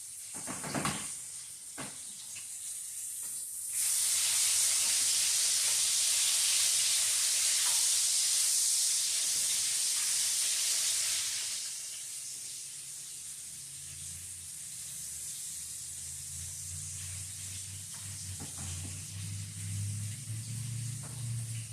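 Chicken tenderloins fry in a pan with a loud, bright sizzle that swells for several seconds and then settles into a steady, softer hiss, with a low rumbling hum building toward the end.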